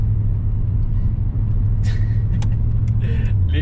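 A 1984 Chevrolet El Camino driving, with a steady, close engine rumble and road noise running throughout and a few faint higher clicks over it.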